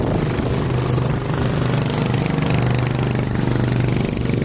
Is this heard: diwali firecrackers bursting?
no